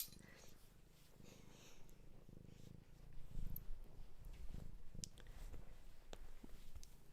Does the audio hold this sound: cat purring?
yes